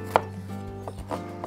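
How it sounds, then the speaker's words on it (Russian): A knife chops onion in a few sharp, irregular strokes, close and fairly distinct over a steady background hum while vegetables are prepared for meatless stuffed peppers cooked in a kazan. "Лук нарезаем, ну, произвольно, как удобно."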